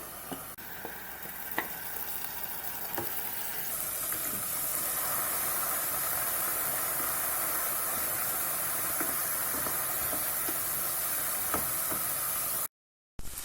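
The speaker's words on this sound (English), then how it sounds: "Add in the leftover marinade into the pan." Leftover chicken marinade hits a hot pan and sizzles loudly, a bright, steady hiss that swells after the first few seconds and keeps frying with faint stirring clicks, alone without voices.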